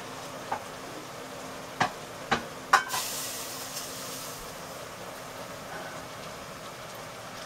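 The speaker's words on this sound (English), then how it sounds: "the kale is boiling, so I'm going to turn it off" Kale boils in a pot on the stove, giving a soft, steady hiss of bubbling water. A few sharp clicks and knocks come early, then a brief surge of steam.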